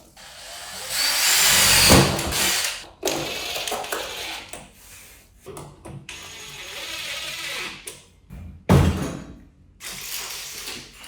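Power drill working on a handicap bathroom stall partition install, with several loud bursts of whirring and grinding separated by short pauses, close by with no talk.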